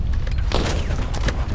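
Dense, rapid bursts of gunfire with booming impacts in the video game The First Descendant, loud and continuous through the short stretch, like a chaotic firefight.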